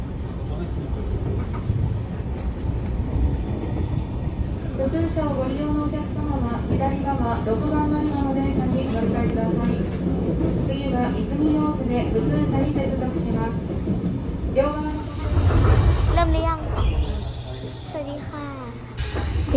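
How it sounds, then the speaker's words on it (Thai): Steady rumble and hiss of a commuter train in motion near Osaka, Japan, with someone talking over it for most of the ride and a brief louder burst near the end. "มาขึ้นรถไฟนะคะรถไฟเข้าเมือง"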